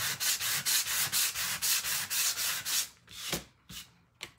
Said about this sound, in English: I just start to sand.